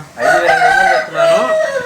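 A fighting rooster (a Garuda Maila cock bred for speed) crows loudly and close by, two drawn-out calls in quick succession with no voices.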